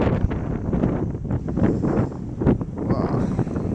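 Wind gusts over drifted snow dunes on a Chicago street the day after the 2011 blizzard, a steady, rough, close rush of wind with buffeting against the microphone and no break.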